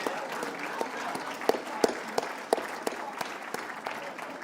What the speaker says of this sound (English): Come on, give them a nice round of applause.